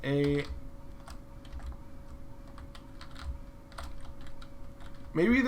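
Close, quick keyboard typing of a search on a computer, soft clicks and taps in a steady patter between brief bursts of speech at the start and end.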